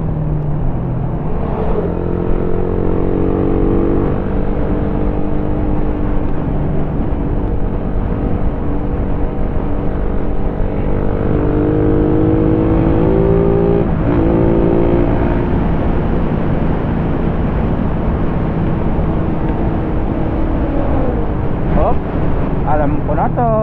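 A motorcycle with mag wheels rides at speed on the road to Bolinao, Pangasinan, its engine droning steadily beneath heavy wind rush, with occasional rising revs and a voice talking over it.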